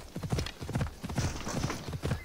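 A horse's hooves clip-clop steadily in Assassin's Creed Odyssey, a close, rhythmic galloping beat with a faint whinny-like tone riding above it.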